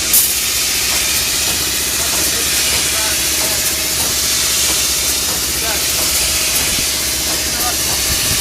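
Polyurea spray coating being applied to a boat hull gives a loud, steady broadband hiss that runs unbroken from start to finish, with faint mechanical rumble underneath.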